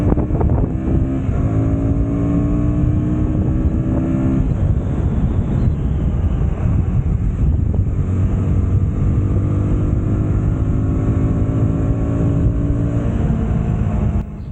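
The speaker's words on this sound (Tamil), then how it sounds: "நான் இதுலேயே உங்களை ரைஸ் பண்ணி இழுத்து காட்டுறேன்" Orange KTM Duke 160 motorcycle engine revving while riding, a loud continuous engine drone with rising and falling pitch over steady wind rush, no talk.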